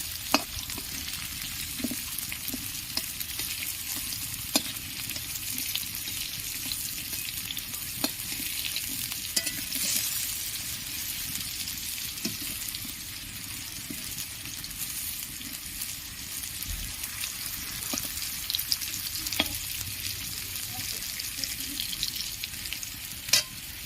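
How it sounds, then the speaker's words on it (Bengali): Potatoes fry in hot oil until browned for a Bengali rohu fish curry with ridge gourd, a dense, steady sizzle with occasional stirring scrapes and clicks, close and continuous with no talk. "আলুগুলো একবারে লাল লাল করে ভেজে নেব"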